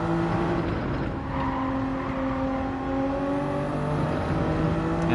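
A Toyota Supra race car in Gran Turismo 7 holds a smooth, sustained engine drone with gently shifting pitch, as if cruising at speed, with no voices.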